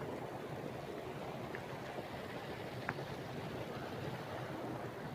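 A small village waterfall rushes in a steady, broad, even roar, moderately distant and fairly quiet, with no voices and only a faint click partway through.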